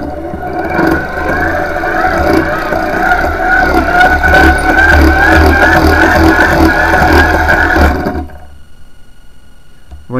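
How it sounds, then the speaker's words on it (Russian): A hand-cranked electric generator turned steadily, giving a loud continuous whirring drone with a low mechanical rumble that holds for about eight seconds and then stops abruptly, leaving near silence. "провернем генератор."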